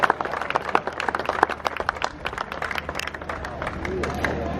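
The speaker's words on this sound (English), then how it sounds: "Big round of applause for James and Gus." A crowd at a historic railway bicentenary gathering claps in dense, rapid applause, with a voice talking over it throughout and the clapping thinning toward the end.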